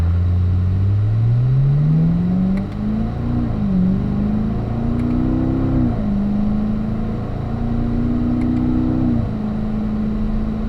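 A car engine drones steadily and climbs in pitch, shifting up through the gears to fourth and revving again several times as it accelerates on a track.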